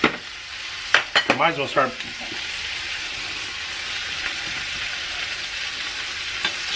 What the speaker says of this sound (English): All right, second steak going in.